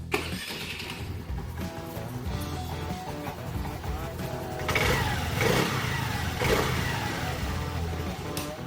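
A Honda Navi scooter engine, fitted with a Polini air filter, starts and revs steadily at close range, its idle rising into a louder, sustained rev partway through with no talk over it.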